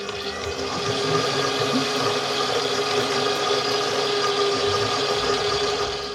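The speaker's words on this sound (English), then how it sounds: "blitz that until it's fluffy and light in your stand mixer or with a freestanding electric whisk" A stand mixer or electric whisk creams icing sugar and butter for cookies, a steady loud motor whir running without a break from start to finish, with no talking.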